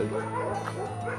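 A dog barks and yips nearby along a path to a hidden waterfall in Kerala, its short whimpering barks running over a steady hum of outdoor noise, with a voice faintly present.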